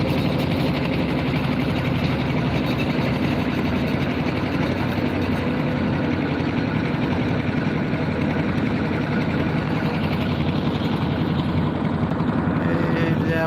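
A trawler boat engine drones on a river near Mehendiganj, Barisal, making a loud, continuous, unbroken rumble that runs for the whole stretch with no pauses.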